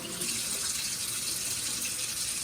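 A kitchen tap runs steadily while zucchini is washed under it for stuffed bell peppers, a close, continuous hiss of splashing water with no talk over it.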